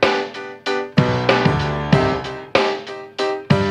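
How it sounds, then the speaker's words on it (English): Live acoustic drum kit playing in a song, with punchy kick and snare hits and cymbal wash spaced in a steady groove over the full band mix. "immediately what you notice is that's the sound of a live drummer"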